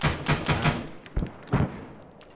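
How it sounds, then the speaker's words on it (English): Bursts of rifle fire from an M16A4 in Arma 3, a rapid run of about four loud shots followed by two separate cracks with short echoing tails. "Well, there's plenty of shooting"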